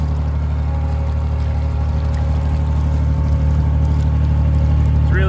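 A home-built diesel submarine's engine runs steadily on the surface at low revs, a loud continuous droning thrum with water rushing alongside and no talk.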